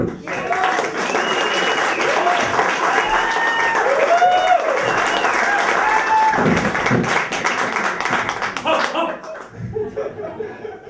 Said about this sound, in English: Please give me a round of applause for Mr. Luan Bexheti.